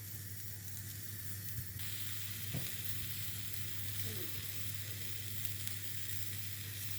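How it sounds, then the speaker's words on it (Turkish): Pizza flatbread dough sizzling steadily in a pan on the stove as it cooks through, a continuous close frying hiss with a brief knock or two and no talking. "Hamur diğer tarafından da pişiyor."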